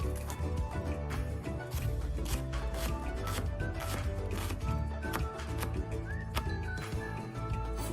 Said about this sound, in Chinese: 取1个洋葱，去皮后再切成小丁状。